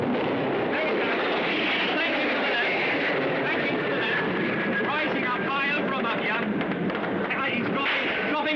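A military aircraft banks low over a town during an air raid in the Biafran war, a loud, continuous engine roar with rumbling and crackling, while a reporter speaks over it.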